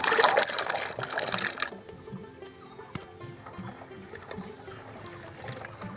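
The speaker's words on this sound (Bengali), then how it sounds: "জলের ভেতরে কুলগুলো ঢেলে দেব" Raw jujube berries tumble into a basin of water with a loud splashing rush that lasts over a second, followed by quieter sloshing and dripping.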